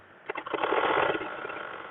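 A sewing machine stitches chudidar fabric along a marked line, a brief, steady mechanical whirr with rapid needle rhythm, close and fairly quiet.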